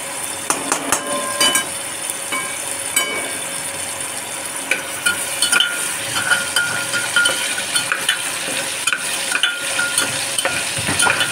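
Ginger and asafoetida frying in a pan give a steady, close sizzle with scattered clicks and spatter pops throughout, fairly loud with no talking.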